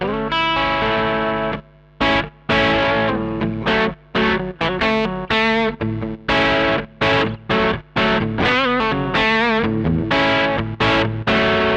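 A PRS SE Hollowbody McCarty electric guitar, an F-hole hollowbody, plays mid-range distorted tones with the volume knob rolled back; phrases of chords and notes ring out, broken by brief pauses, loud and close with no voices.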